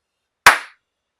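One sharp, close hand clap that cracks out of silence and decays quickly, with a short room tail and nothing else around it.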